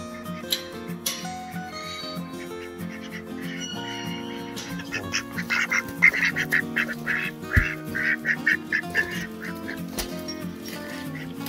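Several ducks quack loudly nearby in busy, overlapping bursts, with some honking from geese or other fowl mixed in and occasional voices in the background.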